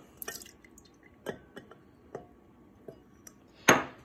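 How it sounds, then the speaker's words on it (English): Salt water is poured back into a glass: faint scattered drips and light glassy clinks, then one brief, louder splash near the end, with no voices. "Let me pour that back into the glass."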